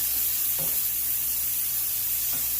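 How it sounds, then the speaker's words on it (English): Sliced peppers and onions frying for a chicken curry produce a constant loud hissing sizzle, with two soft stirring scrapes in the pan, heard close with no talking. "Keep stirring it. Don't stop stirring every at least 20 seconds."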